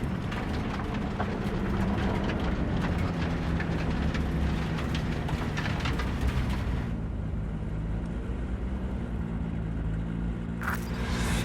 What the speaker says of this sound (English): maybe we should just hijack the train